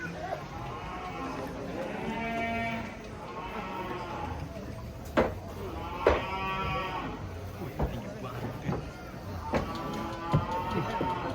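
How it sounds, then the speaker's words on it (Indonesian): Giant contest cattle unloading from a truck moo repeatedly, long, loud lowing calls one after another, with occasional sharp knocks and clatter in between. "Ada sapi raksasa."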